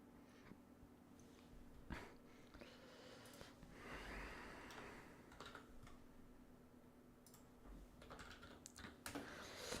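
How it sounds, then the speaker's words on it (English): Clattering keystrokes on a computer keyboard in irregular bursts, close and fairly quiet, set against steady background hum while someone types during a sim-racing league broadcast. "Sorry, I am typing at the moment."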